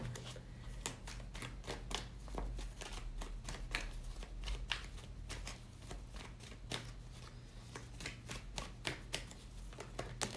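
A deck of oracle cards is shuffled close up in a long run of quick riffling bursts and soft taps, quiet and steady, with no talking.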